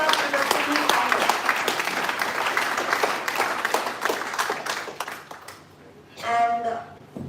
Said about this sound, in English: can we have again a bigger round of applause for all the top 27 participants of Yugma 2023